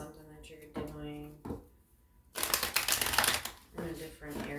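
Tarot cards shuffled by hand, a loud dense riffling burst in the middle with softer card handling before and after, with a voice talking over parts of it.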